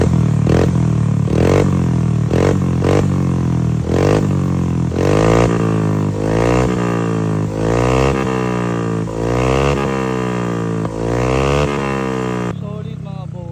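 A Mio i125 scooter fitted with a KVIN aftermarket exhaust revs repeatedly, loud and close: short blips at first, then a run of long sweeps climbing to high RPM and dropping back, with a full, deep exhaust note throughout.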